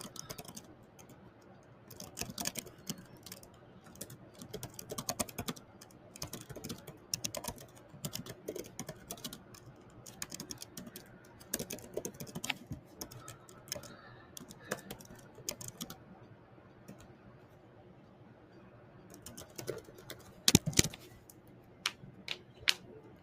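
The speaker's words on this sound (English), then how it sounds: "let's type in our sixth prompt" Steady typing on a computer keyboard as a prompt is entered into a generative AI tool, a quick irregular run of close, fairly soft key clicks with brief pauses, and no talking.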